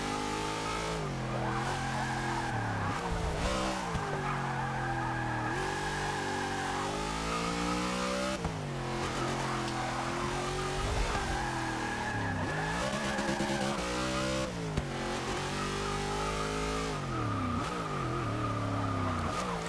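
A 1993 Ford SVT Cobra R in Forza 6, its engine revving hard and falling away again and again, with tires skidding and squealing, loud and steady through the whole stretch and no talk.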